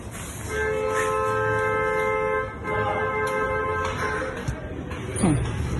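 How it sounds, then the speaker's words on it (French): A long sustained horn blares for about two seconds, then sounds again after a short pause, over steady traffic-like background noise. "Il est en train de klaxonner là-bas."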